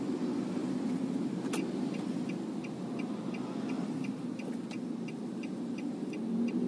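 A 2014 Nissan Grand Livina SV with a CVT, cruising at 60 km/h at about 1200 RPM: a steady, low engine drone and road hum inside the cabin, with faint, regular ticking on top and no talk.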